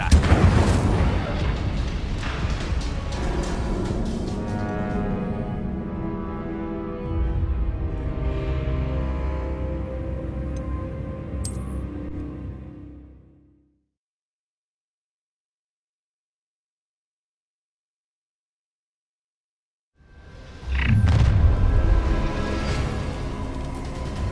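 Magical spell blasts from Bombarda and Incendio booming in Hogwarts Legacy, dense rumbling bursts over several seconds mixed with game voices, then a stretch of silence before another loud blast.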